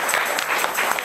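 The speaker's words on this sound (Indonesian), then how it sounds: "Wah tepuk tangan dong Sobat SMP." Junior high school students applaud together in a dense, close burst of clapping that holds steady for about a second.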